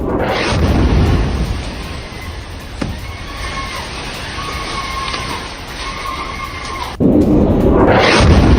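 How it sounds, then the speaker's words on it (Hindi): Explosions strike residential areas in news footage of IDF attacks, bursts landing at the start and again near the end, with a sharp crack in between and a rumbling, roaring wash of debris between blasts. "रिहायशी इलाकों के बीच विस्फोट"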